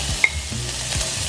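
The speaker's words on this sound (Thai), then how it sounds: "นี่เราจะเอาไส้กรอกไปผัดก่อน" Sausage sizzles and scrapes in a hot Teflon pan with olive oil as it is stir-fried, a steady frying hiss with occasional clinks of a utensil, close up.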